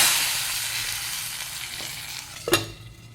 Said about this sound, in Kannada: ಎಲ್ಲ ಫ್ರೈ ಆದ ಮೇಲೆ ಬೇವಿನ ಸೊಪ್ಪು ಹಾಕ್ಕೊಳ್ಳುವ ಸ್ವಲ್ಪ ಫ್ರೈ ಆಗಿ